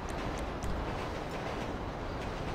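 A passing train in the video game GTA 5 rumbles as a steady, broad roar with faint clicks on top, loud and continuous, with no talk.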